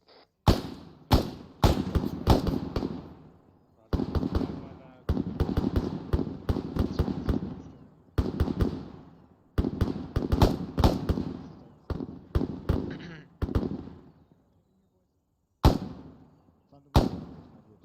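Rapid bursts of rifle fire crack out during a military field training ambush, loud close volleys in quick strings separated by short pauses, with scattered single shots near the end.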